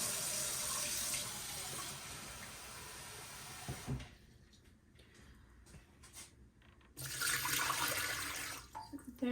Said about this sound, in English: I use really warm tap water